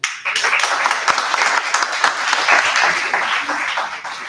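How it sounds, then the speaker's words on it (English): A room of alumni from a 1997 batch applauding themselves, brisk dense clapping from many people close by, steady and lively for several seconds with faint voices mixed in. "give yourself a round of applause"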